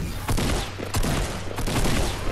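Rapid gunfire from the video game Fortnite, loud and close, with several sharp bursts over a dense stream of battle noise; a player shouts briefly underneath.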